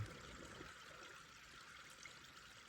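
Water running steadily in a forest river near Skagway, Alaska, a soft, continuous rushing wash that stays even and fairly faint throughout, with no voices.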